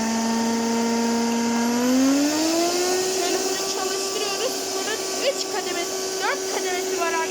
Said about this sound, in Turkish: Süpürgenin sesi birazcık fazla.